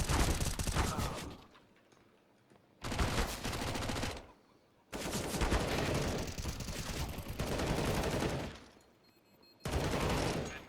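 Desert Eagle pistol fire in a Counter-Strike match at a CEE Champions 2021 esports event, several loud dense bursts of gunfire separated by short pauses, with no one talking.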